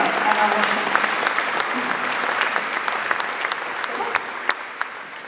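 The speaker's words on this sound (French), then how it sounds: "Vous pouvez l'applaudir, Yanis." An audience claps steadily at a mayor's New Year greetings event, applauding a child mayor, with dense sustained applause throughout and a few louder individual claps near the end.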